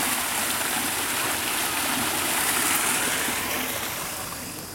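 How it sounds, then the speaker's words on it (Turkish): An artificial waterfall splashing into a duck pond at a wildlife park, a loud, continuous rushing of falling water close by, steady throughout. "Şelale yapmışlar onlar için."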